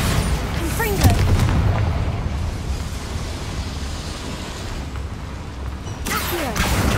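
Magical Bombarda and Confringo blasts from Hogwarts Legacy go off as heavy booming explosions, a burst near the start and another near the end, linked by a rumbling roar with no spoken voices.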